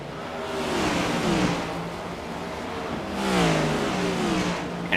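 A pack of race cars in a racing circuit event roars into the first turn, engines loud and continuous with rising and falling revs as several cars pass close together.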